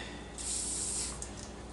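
A WD-40 aerosol can sprays in a soft, steady hiss lasting just under a second, close by and fairly quiet, followed by faint handling noise.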